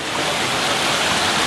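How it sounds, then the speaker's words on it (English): A mountain stream in El Cusuco National Park, Honduras, pours down from waterfalls above, a steady, loud, close rush of water with no break. "This is a stream that came down from where the waterfalls would have been"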